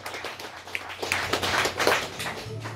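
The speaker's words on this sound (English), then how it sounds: "Give them a round of applause." Comedy club audience at the Ha'penny Bridge Inn in Dublin applauding a couple, a steady wash of many hands clapping close and fairly loud for nearly three seconds, with a few brief whoops and voices mixed in.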